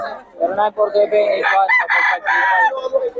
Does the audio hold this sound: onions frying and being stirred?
no